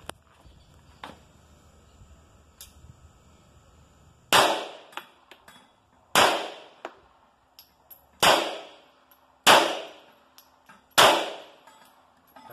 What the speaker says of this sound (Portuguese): cinco disparos, cinco plates, arma bem precisa